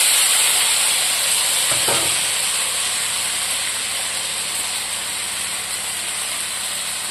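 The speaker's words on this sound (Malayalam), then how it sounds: "നമ്മൾ 4 സവാളയും 3 ചെറിയ ടൊമാറ്റോ, ഒരു 6 വെളുത്തുള്ളിയും, ഇത്രയും നീളത്തിൽ നല്ലൊരു ഇഞ്ചിയും തേങ്ങാക്കൊത്തും കറിവേപ്പിലയും കൂട്ടി ഇത് വഴറ്റാൻ പോവാണ്" Onion, tomato, garlic, ginger, coconut pieces and curry leaves sautéing for chicken curry, giving a steady close hissing sizzle with a brief stirring scrape near the start that slowly eases off.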